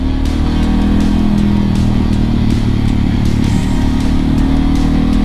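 A Harley-Davidson motorcycle rides under throttle on a greasy road, a loud continuous engine drone mixed with wind and road roar, steady and close throughout with no voices.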